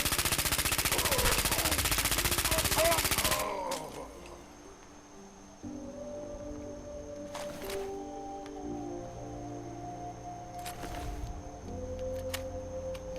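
Rapid automatic gunfire in Fallout 4 during a fight with super mutants: a dense, loud burst of shots for about three seconds, then quieter game ambience with a few scattered sharp cracks.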